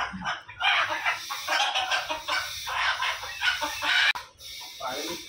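Chickens cluck and squawk continuously in a busy, noisy flock, with a rooster crowing among them, fairly close.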